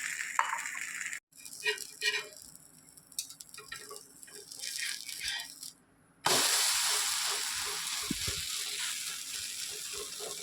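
Mudakathan keerai dosa fries in oil on a pan, giving a steady crackling sizzle broken by a few metal clinks and a brief silence, then a louder, denser hiss near at hand.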